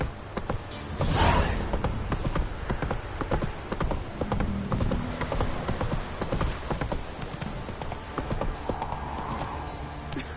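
Horse hooves clip-clop steadily at a riding pace, close and fairly loud, with a brief whinny and some rustling and movement noise mixed in.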